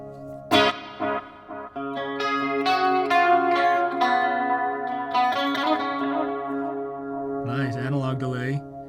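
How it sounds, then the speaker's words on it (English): Electric guitar run through a NuX Mighty Plug headphone amp with chorus and analog delay, playing sustained chords and notes with a shimmering, echoing tail, close and continuous, ending in a warbling modulated passage. "Nice, analog delay. Okay, so we got analog delay, tape echo, digital delay, ping pong."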